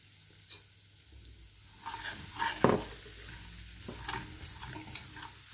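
Ground chillies, black pepper, garam masala, cumin powder, ginger and garlic drop into hot oil and fry with a soft sizzle, quiet at first and then louder with stirring scrapes and a clatter near the middle.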